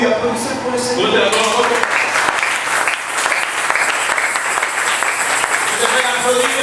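A church congregation applauds during a French-language sermon, steady loud clapping from many hands throughout with crowd noise mixed in.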